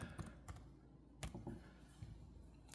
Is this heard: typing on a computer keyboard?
yes